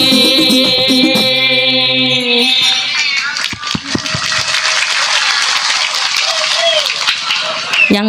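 An audience at a religious gathering in Musholah Al Falah, Gintung Lor, Cirebon breaks into applause as devotional singing ends. The clapping is loud, dense and crowd-wide and continues for about five seconds.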